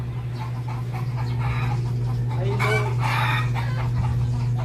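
Chickens clucking with a rooster crowing in a farmyard, set against a loud steady low hum and general outdoor background noise.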